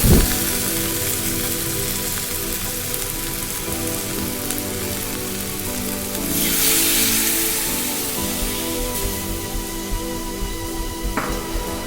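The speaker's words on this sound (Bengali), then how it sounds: "এবার আমি এতে জল দিয়ে দেবো" Water poured into a pan of aloo posto with sesame and poppy seed paste, a sustained hiss and sizzle like rain on a surface, swelling briefly midway, close and alone.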